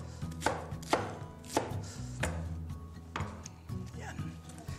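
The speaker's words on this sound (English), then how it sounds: "I'll slice the lettuce a bit," Lettuce sliced with a knife on a cutting board, five or six distinct crisp chops with a crunchy tearing texture between them, close and clear over a faint quiet background.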